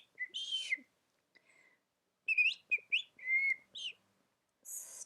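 A person whistles in imitation of a bird, with bright chirping trills and short rising and falling notes in a few separate phrases, close and clear in a quiet room.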